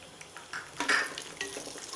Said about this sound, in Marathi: त्यात आपण काजू परतून घेऊया